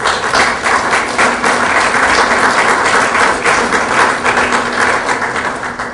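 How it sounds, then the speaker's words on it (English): Loud, sustained applause from a large crowd, dense clapping continuing steadily throughout. "So I want you to give a huge applause."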